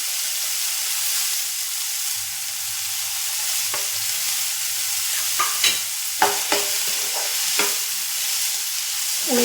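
Onion and tomato fry with salt in a pan, a steady close sizzle and hiss with a few scattered clicks and scrapes of a spoon stirring.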